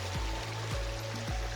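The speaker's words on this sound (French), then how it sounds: "on traverse un petit bout de ruisseau" A small mountain stream in the snowy Pyrenees, crossed on a hike near the Étang d'Appy, gives a steady close rush of running water that continues without voices.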